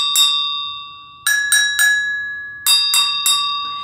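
A smaller classroom percussion bell is struck a few times in a row, each hit ringing with a bright, clear tone that decays slowly; the strikes come close by and alone, with no talking.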